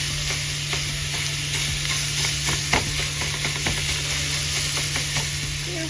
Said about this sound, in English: I am going to brown this pork sausage up.